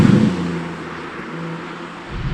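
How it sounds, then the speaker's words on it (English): BMW M4 engine and exhaust with its active sound, heard from inside the cabin as a steady low drone with a brief swell at the start and again at the end. "So at the moment you're hearing the active sound from inside, but even from outside the car does sound very toneful."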